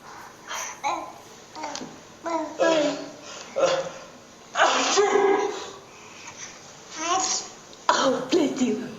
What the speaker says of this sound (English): in the background, the father has just sneezed